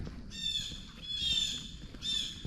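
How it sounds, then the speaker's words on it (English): Three harsh, raspy blue jay calls at moderate distance, evenly spaced over a faint outdoor background in autumn woods at French Creek. "Where you noisy blue jays."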